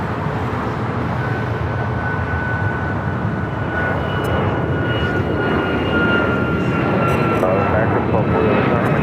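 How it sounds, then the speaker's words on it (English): A Boeing 737 MAX 9 jet takes off from a large airport runway, giving a steady, loud broadband engine roar that holds for the whole stretch with faint voices beneath it. "It's the flight heading to Honolulu, a 737 MAX 9."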